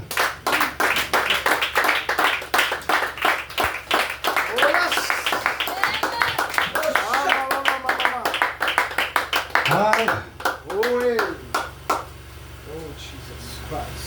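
A church congregation claps in acclamation during a lively French-language worship service, sharp hand claps in a fast, uneven rhythm close by, with voices talking and singing over them before the claps thin out near the end.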